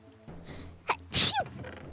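A single sharp sneeze bursts out close to the mic after a quiet breath in, followed by a brief trailing exhale over faint background noise.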